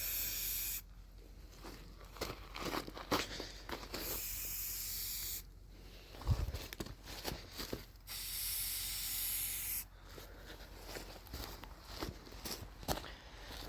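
Spray paint hisses onto wet metal of a deer stand in repeated long bursts, with shuffling footsteps and handling noises between sprays outdoors.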